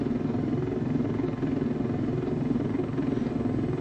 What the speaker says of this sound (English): It's like flying the unturned helicopter.